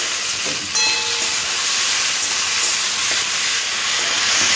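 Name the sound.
green tomato frying with potato and onion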